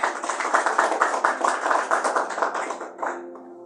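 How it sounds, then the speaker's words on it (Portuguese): A church congregation claps for Jesus at a Sunday evening service, a dense, steady roomful of applause that holds for about three seconds before thinning out. "Palmas para Jesus, irmãos"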